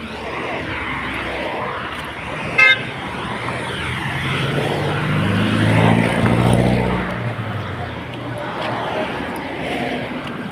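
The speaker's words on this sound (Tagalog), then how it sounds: "So, dami sasakyan guys." Busy road traffic in Banaybanay, Lipa City, Philippines, a continuous roadside rumble of passing vehicles with one swelling louder as it goes by near the middle and a short horn toot early on.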